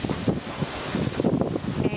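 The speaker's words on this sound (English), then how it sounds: "it's starting to blow pretty good" Strong typhoon wind gusting around a carport between apartment buildings during all-day rain, a steady broadband roar rising and falling in repeated surges, loud and close to the microphone with buffeting noise.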